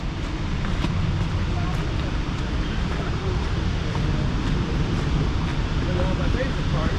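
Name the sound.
Silver Falls South Falls waterfall roaring, heard from behind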